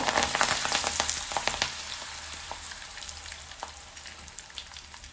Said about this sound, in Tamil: கடுகு கொஞ்சம் போடுறேன் பெருஞ்சீரகம் கொஞ்சம் கருவப்பம்